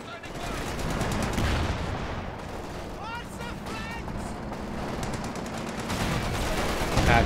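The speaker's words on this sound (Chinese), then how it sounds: "零炮的高爆弹幕，哦，打命中" A high-explosive artillery barrage in the Company of Heroes 2 battle game booms and crackles continuously with rattling gunfire, loud and dense throughout, while a commentator talks over it.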